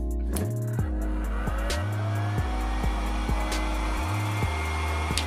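A heat gun runs on a low setting, warming a sneaker for decoration; a steady airy blow sits under repeated motor-like tonal swells and faint clicks, close and continuous.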